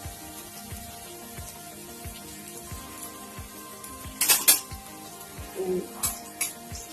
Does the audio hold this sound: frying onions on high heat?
yes